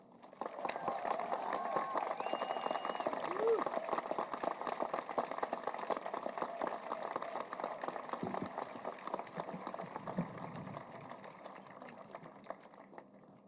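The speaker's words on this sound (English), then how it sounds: "Let's give another round of applause." Dense, steady applause from people at a memorial gathering for five journalists killed at The Capital newspaper, sustained for over ten seconds before thinning out toward the end, with faint voices underneath.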